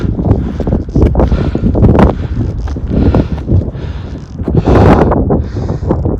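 Gusty wind buffets the microphone high on a mountain trail along the Continental Divide, loud rumbling blasts rising and falling in waves with rustling between them.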